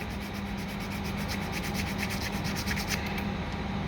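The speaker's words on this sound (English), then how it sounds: "you're going to file the back of your glossy, the glossy side." Steady rubbing rasp of a nail file drawn quickly back and forth across the glossy back of a hair accessory made from hair ties and bobby pins, close and continuous with no talking.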